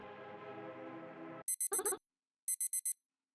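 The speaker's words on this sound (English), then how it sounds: "My hand grips my phone and I slam it down on the alarm button." In the Dream Spectra video game, a steady electronic tone cuts off and a phone alarm follows as two bursts of rapid high beeps separated by a short silence.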